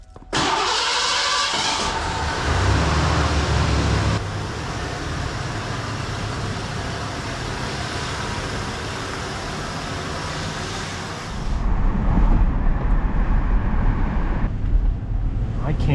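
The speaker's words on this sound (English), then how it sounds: "I can't get over the handling on this car." An old car drives along with a steady engine hum and road rumble for the whole stretch, growing louder and deeper near the end, with no talking.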